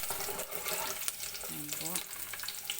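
Garlic sautéing in a pan for chicken adobo with pineapple, a steady frying crackle with occasional stirring scrapes, close and moderately loud, with a brief faint voice partway through.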